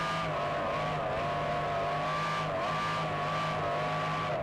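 Offshore racing powerboats roaring off the line at a Key West Superboat Grand Prix start, a dense, steady engine drone with a sustained whining tone, loud and continuous throughout without talking.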